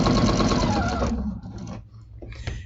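A sewing machine fitted with a walking foot stitches through a quilt in a loud, steady rapid whir that stops after about a second, followed by quieter handling and faint clicks.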